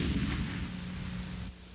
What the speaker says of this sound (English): This field test shows the power of an explosion resulting from pressure built to intolerable